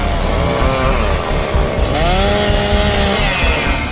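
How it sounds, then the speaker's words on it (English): Chainsaws roar steadily and loud while cutting tree branches in a Chicago fire rescue, the engine pitch rising and dipping as the blade bites, with no voices over it. "then brought chainsaws to cut off the branches"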